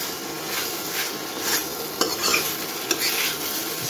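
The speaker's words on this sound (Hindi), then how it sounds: "अच्छी तरह से मिक्स कर रहा हूँ मैं ताकि इसका मसाला जो है मशरूम के हर कोने में पहुंच जाए" Button mushrooms being stirred with masala in a pan, a close soft sizzle with a spatula scraping and a couple of sharp clicks against the pan, no speech.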